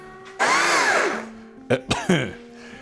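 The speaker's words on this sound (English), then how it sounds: "first, I will cut off the ends of the trunk because there's always cracks in it" A small electric chainsaw bites into the end of a tree trunk: a loud whining rev that climbs and sags for about a second, then three short, sharp bursts of cutting.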